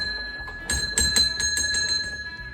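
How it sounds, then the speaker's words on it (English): A hand bell in a grill studio rings out in a quick series of bright, metallic strikes, close and loud, its clear tones lingering briefly after the rapid ringing stops. "This is our grill studio bell that we ring every time we're teaching a private class and someone wants to have a dance breakdown just like this."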